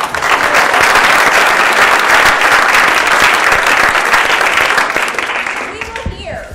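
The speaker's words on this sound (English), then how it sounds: "So we should all applaud him." Loud, sustained audience applause in a lecture hall for the Major League Baseball commissioner, dense clapping from a large crowd that holds steady for several seconds before tapering off at the end.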